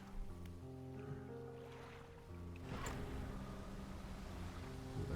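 Boat engine in the fishing game Dredge running with the haste boost engaged, a steady low hum under water and wave ambience that swells louder midway and holds.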